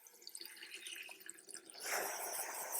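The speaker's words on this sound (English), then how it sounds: "Fill up a water bowl." Tap water running into a small water bowl for a tarantula tank: light splashing and trickling, then a fuller hiss of pouring as the flow strengthens near the end.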